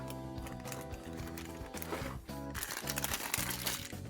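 Plastic packaging crinkles and rustles in quick, irregular bursts as a Nendoroid figure is unwrapped, quiet and close, with a faint musical background.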